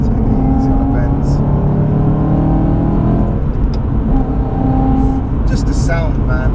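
A 450bhp track-ready BMW M3 engine revs at quarter throttle, a loud, steady, close growl that rises and falls slightly and holds throughout.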